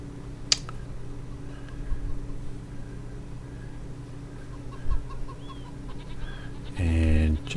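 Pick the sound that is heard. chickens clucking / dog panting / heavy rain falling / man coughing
chickens clucking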